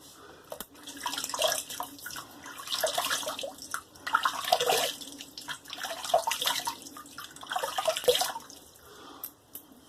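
Hot water running and splashing at a sink as a face is re-wetted before a wet shave, in uneven bursts of trickling and splashing with brief pauses, fairly close and moderately loud, with no talking.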